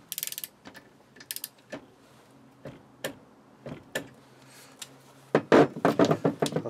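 A KING TONY torque wrench clicking as it tightens, sharp isolated clicks and ratchet ticks at irregular intervals, then a denser clattering run of clicks near the end in a quiet room.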